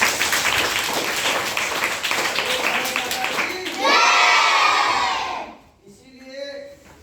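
A classroom of children claps and cheers loudly, a dense wash of hand claps and shouting voices that swells into a burst of yelling before cutting off, followed by a few brief voices.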